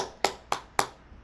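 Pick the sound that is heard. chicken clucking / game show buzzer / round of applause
round of applause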